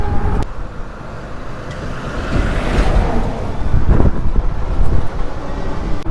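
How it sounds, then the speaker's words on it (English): Loud passing vehicles rumbling by on a road, heard while riding a fat-tire electric bike at speed, mixed with heavy wind buffeting the microphone, rising and falling as traffic goes past. "Lots of traffic here."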